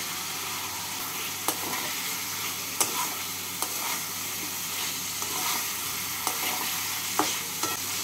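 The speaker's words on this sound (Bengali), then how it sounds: "আলুগুলোকে মশলার সাথে নাড়াচাড়া করে নিলাম।" Fried potatoes are turned through a sizzling spice paste in a pan: a steady frying hiss punctuated by several distinct spatula clicks and scrapes at irregular intervals, close and moderately quiet, with no voices.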